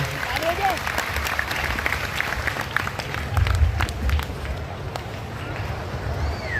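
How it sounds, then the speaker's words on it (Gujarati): Crowd applause welcoming guests at a Hindu religious gathering, a dense, sustained wash of many hands clapping with background crowd murmur throughout, swelling slightly midway. "તાળીઓના ગગડાટથી વધાવીએ અતિથિજનોને"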